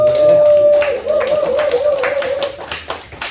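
A church congregation claps during a sermon, with quick broadband claps beneath a loud, sustained voice that fades by the end.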